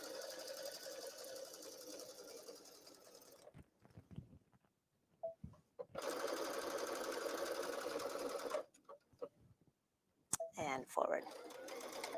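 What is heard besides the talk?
sewing machine stitching trim onto jeans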